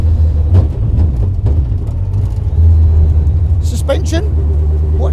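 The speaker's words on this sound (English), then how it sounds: "they can still flat shift at low speeds like I am there" Hayabusa-engined Cup 200 car driven at low speed, flat-shifting without the clutch: a loud, steady low engine rumble with a brief dip and surge as a gear changes, someone talking over it throughout.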